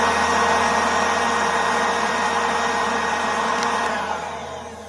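An MZK 20V cordless leaf blower runs at steady full power, a loud continuous airy whoosh and motor whine that holds for several seconds before easing down toward the end.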